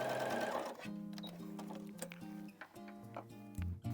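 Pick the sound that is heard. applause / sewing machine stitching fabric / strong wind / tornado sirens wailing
sewing machine stitching fabric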